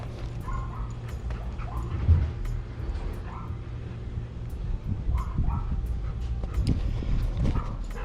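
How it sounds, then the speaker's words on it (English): A dog barks and whimpers beside a home swimming pool, with short yips and whines recurring unevenly over a low, steady background hum. "My dog's crazy."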